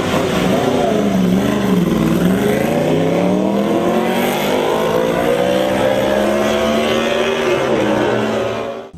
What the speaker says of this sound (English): But all the bikes sound molto bene.